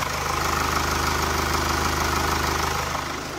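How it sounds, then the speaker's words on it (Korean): A Mercedes-Benz E-Class 4Matic diesel engine idles steadily up close with the bonnet open, an even, rhythmic low clatter and a constant mechanical hum. "굉장히 정숙하고 규칙적인 엔진 사운드 들려주고 있고요"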